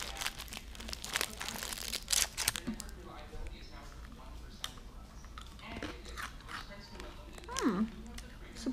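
A crunchy cookie is bitten and chewed up close, with crinkly snaps and wrapper rustles over the first few seconds, then quieter chewing with a brief voice near the end.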